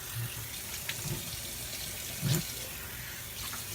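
Tap water runs steadily from a faucet to rinse an alum block during a wet shave, a soft continuous splashing stream with a few small knocks and bumps against the sink.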